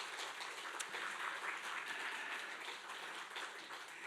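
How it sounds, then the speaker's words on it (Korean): A congregation at a Korean Presbyterian church service in Hawaii gives steady applause of thanks, a continuous wash of many hands clapping, moderately distant and soft, with no talk over it. "우리 또 감사의 박수 한번 부탁드리겠습니다."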